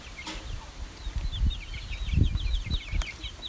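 Seven six-week-old KUB chickens mixed with Elba chickens in one cage give soft repeated peeps and chirps with occasional low clucks and shuffling thumps, close by.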